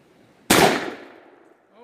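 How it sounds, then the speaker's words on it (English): A shotgun loaded with a cut shell fires once at a hunk of wood outdoors: a single sharp, loud blast that rings out and fades over about a second, followed by a brief voice. "we're going to shoot that old hunk of wood down there"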